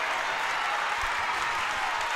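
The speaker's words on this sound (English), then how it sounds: "Both sides clapping." A crowd at a high school basketball tournament game claps steadily, with dense, even applause from both sides of the gym filling the space throughout.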